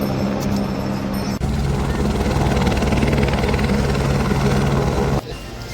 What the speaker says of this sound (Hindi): रास्ते में हमें बीच बीच में हेलीकॉप्टर भी नजर आते हैं जो यात्रियों को सीधे